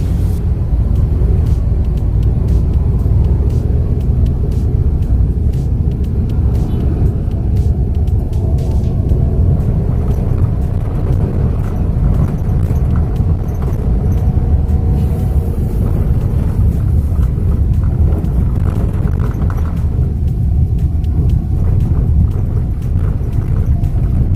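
Manual car engine runs at a steady, low rumbling throttle while reversing out of a garage, a constant close drone with faint mechanical ticks and no voices.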